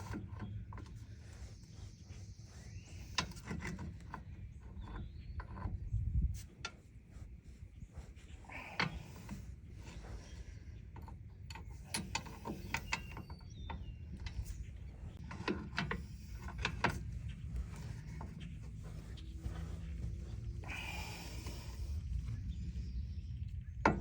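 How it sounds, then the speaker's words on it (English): Pry bar working a driveshaft loose on a 2014-2018 Silverado/Sierra pickup, giving scattered metallic clicks, scrapes and knocks over a steady low rumble, close by with no talking. "Got myself a little pry bar. I'm gonna go ahead and try to pop her out this way very carefully."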